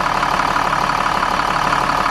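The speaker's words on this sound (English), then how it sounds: "In fact, I should get the engine running first." An RV engine runs at a steady idle, a continuous loud, even rumble close by with no voices.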